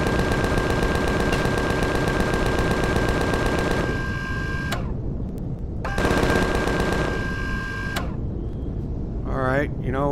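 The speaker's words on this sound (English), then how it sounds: "I'm not sure if our Gatling gun's doing anything to it." A Gatling gun in Empyrion Galactic Survival fires in long, dense mechanical bursts with a steady whine, pauses, fires again, then winds down beneath warbling game effects.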